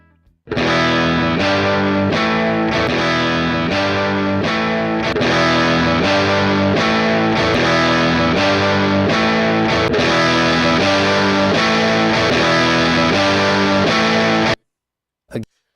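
Looped electric guitar riff played back through a tube amp switched between tube and solid-state rectifier modes, loud driven chords in a steady repeating rhythm for about fourteen seconds before stopping abruptly, followed by a brief burst.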